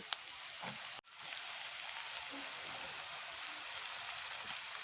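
Browned onions with potatoes frying in a pan make a steady, soft sizzle, with a brief clunk near the start and the crackle continuing evenly afterward.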